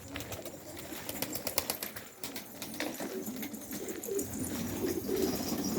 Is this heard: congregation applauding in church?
no